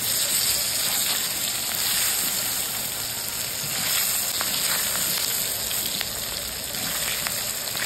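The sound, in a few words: frying taro and potatoes in a pan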